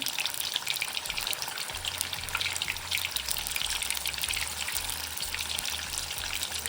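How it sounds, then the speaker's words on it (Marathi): Paneer pieces frying in hot oil, a dense, continuous crackling sizzle held close and even throughout, with no talk. "तेल गरम झाले आपण पनीर तळून"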